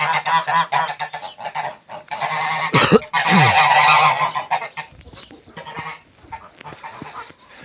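Mamut geese honking loudly and repeatedly at close range, overlapping nasal calls with short pauses between bursts.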